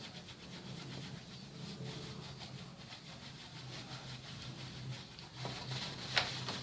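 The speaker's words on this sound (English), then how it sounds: "dry the wood out with the iron." A household iron is pressed and rubbed over a sheet of wood veneer to dry it, giving a steady soft scraping hiss with a few small clicks near the end.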